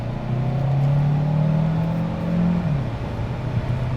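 A 2024 Hyundai Santa Fe Hybrid pulls away at half throttle in sport mode, giving a steady, moderately loud engine drone that climbs in pitch, then briefly dips as it shifts and settles into a continued hum, with no talking.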